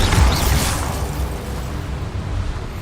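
A Bombarda spell explosion in Hogwarts Legacy: a loud, deep burst at the very start that rolls off into a fading rumble over a few seconds.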